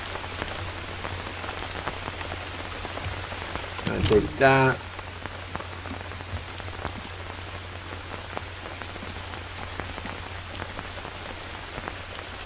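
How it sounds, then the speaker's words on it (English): Steady rain patters across the jungle in the survival game Green Hell, a constant wash of drops heard throughout, with a brief burst of rustling midway and someone talking over it. "It's raining again."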